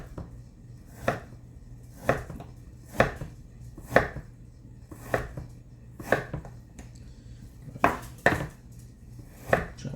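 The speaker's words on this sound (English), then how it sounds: "Chop through this real quick." A knife chops beef for jerky on a cutting board in a steady run of firm, evenly spaced thuds, about one per second, close and clear with no voices.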